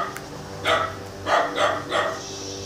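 A dachshund barks four times, sharp yips spaced irregularly, close by over a faint background hum.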